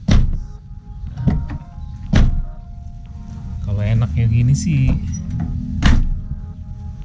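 Toyota Corolla AE112 car doors opened and shut several times, sharp solid thunks spaced a second or two apart, close by, with someone talking between them.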